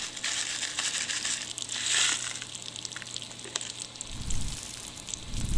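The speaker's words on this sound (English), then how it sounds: "I got pop rocks here, and I'm making a sound of sizzling." Pop rocks dropped into water for a foley sizzle, giving a dense crackling fizz that swells around the two-second mark, then low splashy rumbles near the end.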